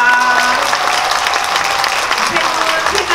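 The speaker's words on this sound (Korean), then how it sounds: "세 분이 퇴장하시는 동안도 영화 잘 되라고 응원의 박수 보내주시기 바라겠습니다" Audience applause fills a cinema during a movie Q&A as three guests leave the stage, a dense, steady clapping from the crowd with a voice briefly heard over it.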